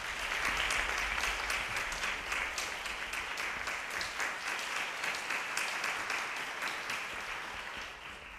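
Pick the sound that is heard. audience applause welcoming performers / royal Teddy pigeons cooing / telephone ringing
audience applause welcoming performers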